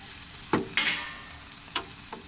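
Scrambled eggs cooking in a pan over medium heat, a steady soft sizzle with a few brief spatula scrapes and stirs breaking through, close and moderately quiet.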